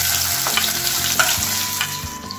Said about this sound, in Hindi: अब जो हमने अपनी स्टीम में बढ़िया बनाकर रखी थी उन्हें सेलो फ्राई कर लेंगे।